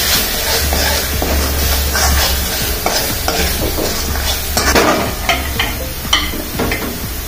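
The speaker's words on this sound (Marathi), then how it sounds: "आपला मसाला तेलात चांगला परतलेला आहे." Masala frying in oil for mutton kharda, a loud, close sizzle with continuous scraping and stirring strokes of a spatula against the pan, and no talk.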